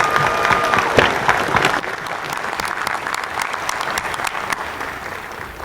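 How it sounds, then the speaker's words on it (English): An audience at a spring university commencement breaks into loud, sustained applause that peaks early, then eases slightly and carries on steadily, with some crowd murmur mixed in and no speech. "Join me in a round of applause for this great university and the impact our graduates are making across this region and beyond."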